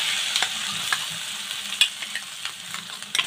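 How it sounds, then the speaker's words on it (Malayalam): Crushed coconut paste fries in hot oil for Kerala-style spinach thoran, a soft continuous sizzle broken by quick scraping and clicking strokes of a spoon stirring it around the pan. "അരപ്പ് ചേർത്ത എണ്ണയ്ക്കകത്തിട്ട് നന്നായിട്ടൊന്ന് മിക്സ് ചെയ്യണം"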